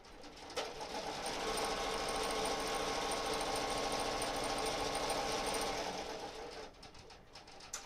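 An embroidery sewing machine stitching in a steady, fast, continuous whir and clatter for several seconds. It starts abruptly, holds a constant rhythm, then winds down and stops, leaving faint background noise.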